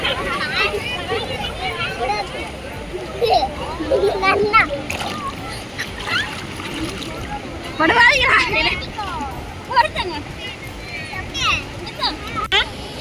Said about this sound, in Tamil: ஆத்துக்கு வந்துட்டு முங்காம போக கூடாது